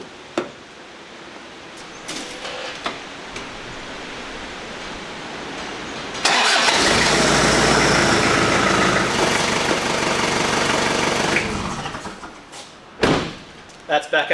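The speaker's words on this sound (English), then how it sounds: "Just a quick tip with starting these 1KZ-TEs" Toyota Prado 90 with a 1KZ-TE diesel engine cranks and starts midway, then idles with a loud steady rumble for several seconds before dropping off; quieter sounds and a few knocks come before and after, with someone talking.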